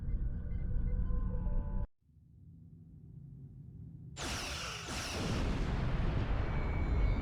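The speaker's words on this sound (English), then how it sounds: "Target that ship and fire all weapons." Starship weapons fire in the Star Trek Online video game: a low rumbling hum cuts out, then loud, harsh blasts of energy burst in twice and roar on, full and close.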